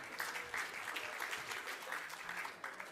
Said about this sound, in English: You can give me a round of applause if you want.